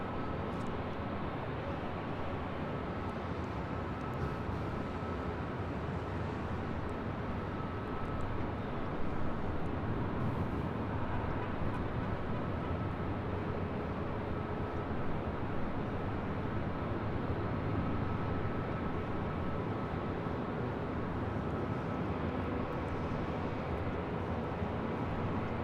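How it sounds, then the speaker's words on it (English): Air New Zealand Boeing 787 Dreamliner jet at LAX, a continuous broad roar of engine noise that stays steady and fairly distant throughout, with no voices. "we can capture for a split second the Air New Zealand Dreamliner"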